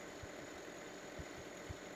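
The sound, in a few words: Zetor Proxima 8441 tractor engine running, video game mod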